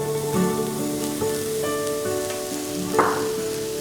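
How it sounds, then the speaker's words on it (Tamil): Beans hit a hot pan of cabbage and vegetables, sizzling steadily at moderate volume, with a brief louder hiss near the end as more goes in; the pan is heard alone, without talk. "இந்த ஸ்டேஜில் இதுக்கு தேவையான பீன்ஸை நம்ம ஆட் பண்ணுறோம்"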